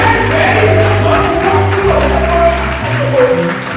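A worshipping congregation keeps up continuous applause and acclamation for the Lord, broad and fairly loud throughout, with crowd voices and a steady low musical drone beneath it.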